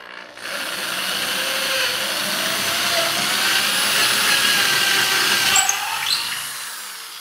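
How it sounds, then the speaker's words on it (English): A power drill with a twist bit bores through a clamped wood workpiece, a steady whining motor with a slight pitch drift as the bit cuts, then it winds down near the end. "And we'll continue drilling through."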